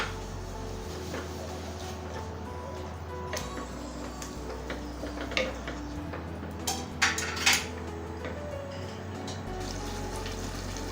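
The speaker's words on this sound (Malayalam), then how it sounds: "ഞാൻ ഇതിലേക്ക് ലാസ്റ്റ് നമ്മൾ എടുത്തു വെച്ചിട്ടുള്ള പച്ചമുളക് ചേർത്ത് കൊടുക്കാം. നന്നായിട്ട് ഇതിനെ ഒന്ന് മിക്സ് ചെയ്യാം." Green chillies are stirred into chicken tikka masala gravy in a pan, with a low bubbling simmer under intermittent clinks and scrapes of a spoon against metal, a few sharper knocks near the end.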